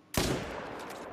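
A single loud rifle shot fired at a moose while hunting in The Call of the Wild game, one sharp blast with a long rolling echo and decay trailing off afterward.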